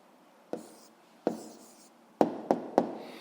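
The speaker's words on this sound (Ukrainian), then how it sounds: "Записуємо відповідь." A pen writes down an answer on paper in a quiet room, producing five sharp, separate taps and scratches that grow more frequent toward the end.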